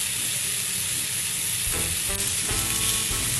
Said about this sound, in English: When the pan is hot, I'm going to put my patty on it.